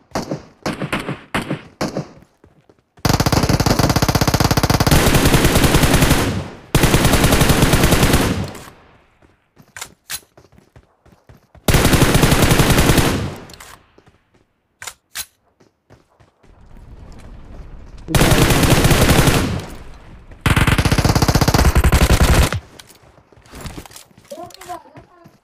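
Loud automatic gunfire from a PUBG mobile match comes in several long sustained bursts with short single shots between them, separated by quiet gaps, and a player talks between the volleys.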